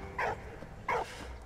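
Two short dog barks or yips from a game dog in Valiant Hearts, about half a second apart, moderately close over a quiet background.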